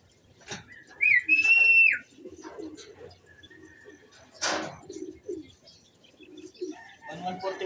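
Racing pigeons coo at the loft, with soft repeated coos, a clear whistle-like call and scattered chirps and flutters, while people talk nearby and a short burst of other noise cuts in.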